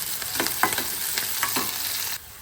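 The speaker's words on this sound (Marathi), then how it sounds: "कांदा फ्राय झाला." Onion fries in a pan for a fenugreek dish, a close crackling sizzle punctuated by several sharp stirring scrapes, cutting off abruptly near the end.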